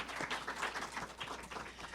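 An audience at a book presentation applauds the panel members seated at the table, a brief burst of scattered clapping in a room, fairly faint.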